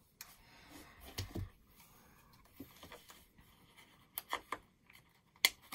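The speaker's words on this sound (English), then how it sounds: "to cut with my scissors" Scissors cut through thick scrapbooking paper in a few faint, scattered snips and crunches, a quiet cluster early on and a sharper series near the end, with hush in between.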